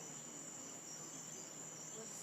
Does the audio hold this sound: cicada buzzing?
yes